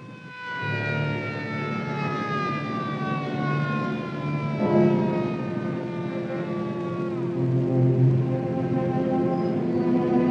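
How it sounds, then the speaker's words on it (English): An ambulance siren wails, rising and falling continuously, loud and near, sweeping up and down in pitch as the vehicle passes. "New ambulance"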